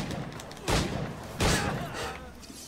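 Two sharp gunshots from the pirate game Assassin's Creed IV Black Flag, spaced under a second apart, each a loud broadband crack over a steady bed of in-game ambience.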